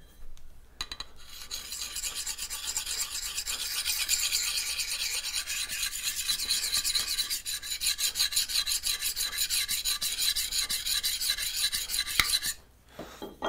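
A steel blade scrapes back and forth across a coarse sharpening stone in rapid, even strokes, a close, continuous gritty rasp lasting over ten seconds before stopping abruptly.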